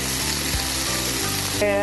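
A small, thin cod fillet frying in a pan produces a steady close sizzle and crackle, with a few soft clinks near the end.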